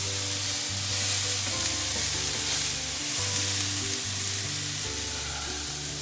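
Chopped onion sautéing in a pan for a mussel and shrimp spaghetti sauce, a steady close sizzle running throughout with no break, accompanied by a low constant hum.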